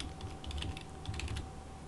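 A computer keyboard clicks in a short, quiet burst of keystrokes while a wireless network name is entered during router setup, with no talk.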